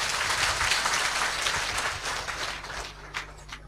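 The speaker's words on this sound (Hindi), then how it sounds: "एक बार सभी हमारे चिरांग के भाइयों के लिए तालियां तो जोरदार हो जाएं।" Audience at a state meeting of Bharat Swabhiman in Kolkata breaking into loud, sustained clapping, dense and steady throughout before thinning slightly toward the end.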